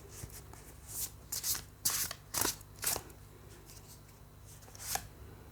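Tarot cards being shuffled in a series of close, crisp riffling bursts and soft rubbing swishes, with short pauses between handfuls and no talking.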